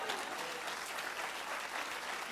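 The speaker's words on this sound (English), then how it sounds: "Give her a round of applause." Steady audience applause, many hands clapping together in a dense, even wash from start to finish.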